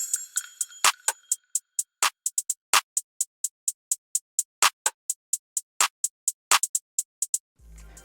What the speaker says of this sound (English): And then I added this coin drop effect